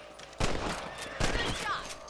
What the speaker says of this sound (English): Get your rifle out. It's about time these little thieves met their maker.